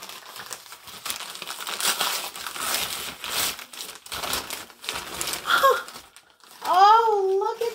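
Wrapping paper crumples and crinkles as a vintage mystery box is unboxed, close rustling bursts running through a voice talking, ending with a higher, livelier exclamation.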